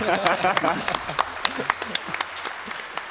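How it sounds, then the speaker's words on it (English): Scattered audience applause at a speedrun charity marathon event, sparse individual claps popping over a steady room murmur and voices, lasting a few seconds. "Clap for that."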